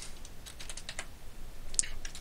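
A computer keyboard being typed on, a quick run of light plastic key clicks that ends in one sharper keystroke as Enter is pressed, close and heard alone.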